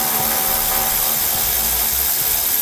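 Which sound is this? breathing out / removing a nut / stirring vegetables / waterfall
removing a nut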